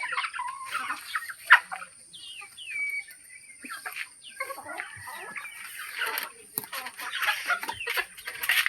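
Chickens cluck and squawk close by over steady background hiss, with scattered bird calls and a few louder cackles throughout.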